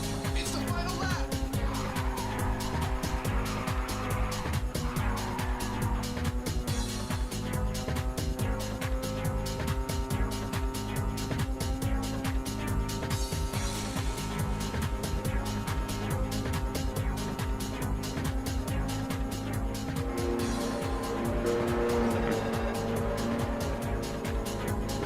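Race car engines in the video game Ridge Racer 7 drone loudly and continuously, with rising and falling revs and occasional tire noise as rival cars close in.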